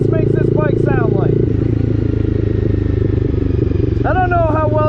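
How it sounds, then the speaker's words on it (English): A Honda motorcycle fitted with an SC Project exhaust rumbles loudly and steadily, close up, while riding through town, its deep throbbing drone running the whole time, with a few brief squeaky or voice-like sounds above it. "That's what this exhaust makes this bike sound like."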